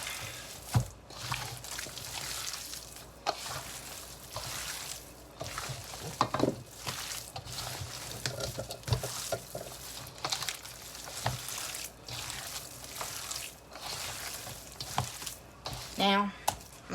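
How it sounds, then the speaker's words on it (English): Raw meat pieces are tossed with sage for sausage, producing soft, wet squishing and stirring sounds in irregular bursts, with occasional clatters and a few louder knocks near the end. "We're just going to mix this up so the sage gets all over"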